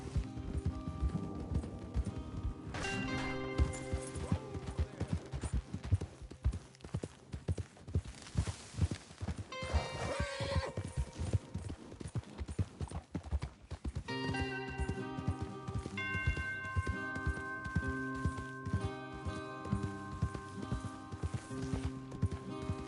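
Rhythmic hoofbeats of galloping horses in Red Dead Redemption 2 over a dense musical score, with a brief burst of clatter midway and an occasional whinny.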